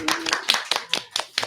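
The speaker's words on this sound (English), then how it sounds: "Let's give a round of applause for the podcast" A short burst of applause for a podcast host's show: about seven crisp, evenly spaced claps, close and fairly loud, sounding like only a few pairs of hands.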